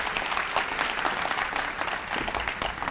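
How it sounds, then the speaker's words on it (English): Applause from the audience at a breakfast forum, a dense, even clatter of many hands clapping through the whole moment, with no voices. "Well, another round of applause for Curtis Hoagland."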